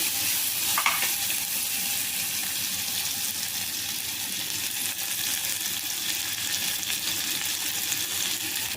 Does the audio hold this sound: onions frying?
yes